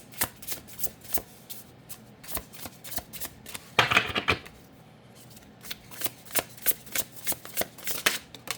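Tarot cards shuffled close up in steady repeated riffling bursts, a longer dense flurry in the middle, then a quick rhythmic run of card slaps.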